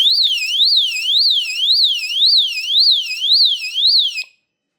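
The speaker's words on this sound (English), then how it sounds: "This thing does have an extremely loud alarm on it. It is a 110 decibels." A Hovara floating pool alarm blares at 110 decibels, its piercing tone sweeping up and down in a rapid, regular siren cycle, loud and close, then cutting off abruptly.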